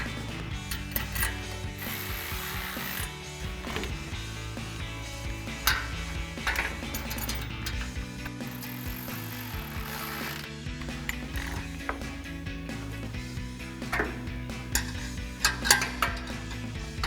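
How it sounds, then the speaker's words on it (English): A ratchet and 16mm socket tightening bumper bolts on a 2016-2023 Toyota Tacoma with a Barricade Reaper HD front bumper, close rapid clicking ratchet strokes in repeated bursts over background clatter. "we can come back and tighten up with a 16mm socket and a 16mm wrench"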